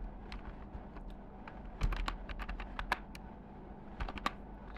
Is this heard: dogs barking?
no